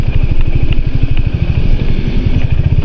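Three motorcycles, Bajaj Pulsars among them, ride past on a cool hill road near Munnar, their engines giving a loud, close, steady thumping rumble with a rapid even pulse throughout.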